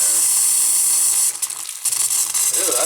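Hot-water faucet near a water heater being flushed, hissing steadily and then sputtering in uneven bursts as trapped air spits out with the water, loud and close.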